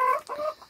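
A hen of a breed that lays blue eggs clucks up close in a short burst of a few quick, bright calls in a countryside setting.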